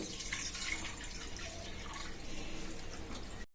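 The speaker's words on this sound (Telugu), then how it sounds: "అందులో నేను ఇక్కడ 1 లీటర్ వరకు అయితే వాటర్ వేస్తున్నాను." About a liter of water being poured into a kadai for ragi porridge, a faint steady splashing trickle close by, with no talk.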